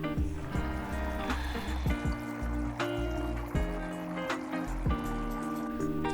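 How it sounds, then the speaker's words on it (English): Water from a kettle being poured into a pedicure foot spa, a soft trickling and filling with gurgling pulses that rise and fall over several seconds, fairly quiet and close. "I will add the water in there as I please as my temperature changes"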